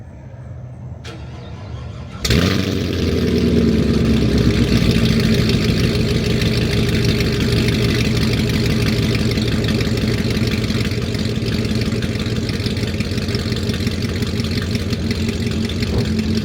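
A 2019 Chevrolet Camaro 2SS V8 cranks and fires at close range with a sharp loud catch, then settles into a steady, rumbling idle that holds evenly to the end, with no talking.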